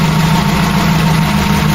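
A Ford Cortina GXL engine runs steadily at idle while it charges the battery, a loud, even, low hum with no breaks.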